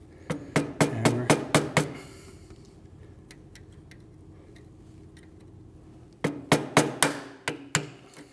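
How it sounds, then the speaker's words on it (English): A hammer strikes a flat-blade screwdriver on a BMW F10 M5 engine during disassembly: a fast burst of about seven sharp metallic taps, a quieter stretch with a few light ticks, then another rapid series of close, loud blows. "I guess I got to keep working at it with this flat blade screwdriver and"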